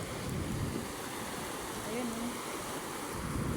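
Ocean surf washes steadily onto a beach as a continuous broadband rush, with people talking over it nearby.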